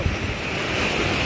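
Beach ocean waves surge in a continuous loud roar of surf, with wind buffeting the microphone throughout and no voices.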